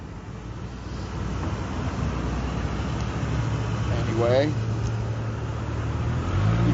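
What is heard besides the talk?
car driving past on a road corner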